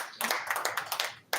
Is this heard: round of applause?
yes